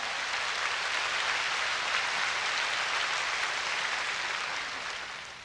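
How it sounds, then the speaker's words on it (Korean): A large church congregation claps together, a dense, even wash of hand clapping that holds steady at moderate volume and then tapers off slightly toward the end, with no voices standing out. "Clap your hands and praise God"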